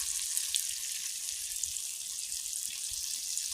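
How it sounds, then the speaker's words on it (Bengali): An ilish fish head with turmeric, dried chillies and red chilli powder fries in oil, a steady close hissing sizzle with faint crackles throughout, without talk. "আমি একেবারে তেল দিয়ে মশলা সমেত মাথাকে ভেজে নিচ্ছি"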